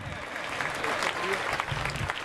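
Audience applause at a school annual function, a steady clapping from a seated crowd that runs for about two seconds, with a few voices murmuring through it.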